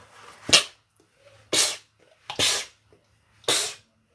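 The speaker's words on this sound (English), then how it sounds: "Cat sneezes." A cat sneezes four times in quick succession, sharp close bursts of air separated by brief quiet pauses, with no talking.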